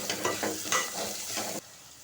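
Cloves and small cinnamon pieces sizzling in a pan for egg biryani while being stirred, close scraping strokes over a steady frying hiss that cuts off abruptly, no voices.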